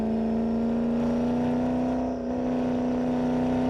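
A McLaren P1 V8 engine drones steadily at a loud, close, constant pitch with a brief dip midway and no talk.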